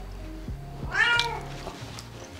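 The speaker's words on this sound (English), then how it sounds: "No matter how much you meow at me" A cat gives a single drawn-out meow, close and clear, over a low steady hum in a quiet room.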